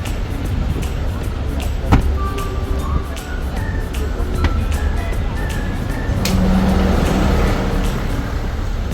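Road traffic in central London heard from aboard a tour bus: a steady rumble of engines and passing vehicles with scattered clicks and brief tonal squeals, fairly loud and continuous, swelling slightly near the end.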